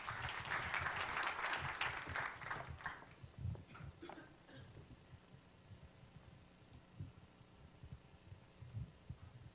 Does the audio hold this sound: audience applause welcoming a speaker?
yes